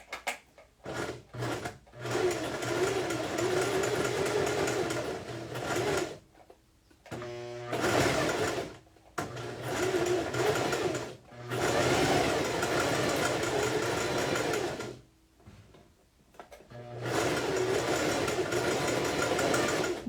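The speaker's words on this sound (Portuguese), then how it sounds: "Eu tô numa péssima posição aqui pra costurar" A domestic sewing machine stitches fabric on a very small stitch setting, running in fast whirring bursts of a few seconds each, separated by short pauses and brief stops.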